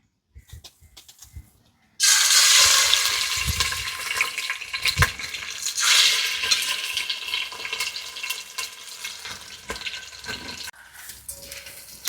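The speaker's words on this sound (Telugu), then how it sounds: "ఇప్పుడు ఈ రొయ్యల్ని నూనెలో వేసి బాగా ఫ్రై చేస్తాను" A sudden loud sizzle as prawns hit hot oil, then a steady crackling fry that continues, easing slightly over time.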